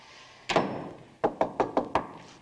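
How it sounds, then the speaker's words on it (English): Knocking on a door in an indoor hallway: one heavy knock, a pause, then a quick series of four or five sharp raps, close and distinct. "There's the knock."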